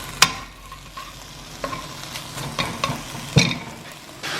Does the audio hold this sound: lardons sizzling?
yes